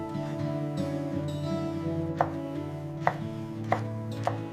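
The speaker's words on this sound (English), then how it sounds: "Mincing a few shiitake mushrooms for deep flavor." A knife mincing shiitake mushrooms on a cutting board: a few sharp, spaced chops sound clearly over steady background music.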